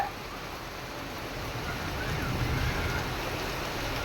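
Heavy unseasonal summer rain pours down in a steady, broadband hiss that swells slightly, dense and continuous with no distinct drops standing out.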